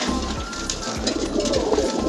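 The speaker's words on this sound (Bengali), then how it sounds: "মাশাল্লাহ খুব সুন্দর সুন্দর কবুতর আছে এখানে" Pigeons in a breeding loft coo repeatedly at close range, their low, throaty rolling calls overlapping continuously through the short stretch.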